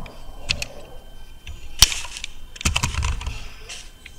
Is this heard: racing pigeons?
no